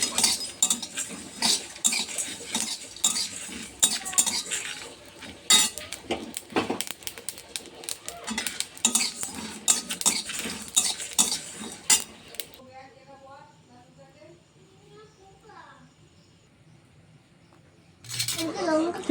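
Fennel, cumin, coriander and dry chillies dry-roasting in a pan make rapid clinks and scraping rattles for most of the stretch. Then it quietens to faint background with some voice-like sounds, and a burst of noise returns at the end.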